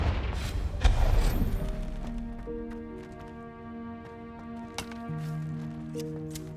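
A Confringo fire spell cast in Hogwarts Legacy, a sharp booming burst near the start followed by sparse clicks and thuds over sustained tonal game music, with no talk.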